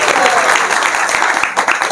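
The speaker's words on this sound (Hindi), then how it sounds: "विशेष रूप से जो पहली बार आए हैं उनके लिए विशेष तालियां बजेंगी।" A room of people at a Bhagavad Gita class claps for first-time attendees, a dense, loud burst of hand claps close by that runs about two seconds.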